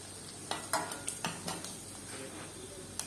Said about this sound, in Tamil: எண்ணெய் காஞ்சோடனே நம்ம தாளிக்கிற வடகம் சேர்த்து தாளிச்சிடலாம்.